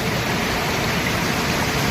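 River water rushes in a dense, steady broadband roar as someone wades across, loud and close with no breaks.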